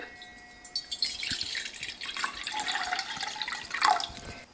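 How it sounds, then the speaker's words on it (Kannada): Water runs and splashes into a pot for North Karnataka jowar ambali, a continuous close pour that rises in pitch toward the end as the pot fills, with no talk. "ಒಂದು ಅರ್ಧ ಪಾತ್ರೆಯಷ್ಟು ನೀರು ಹಾಕೋತೀನಿ"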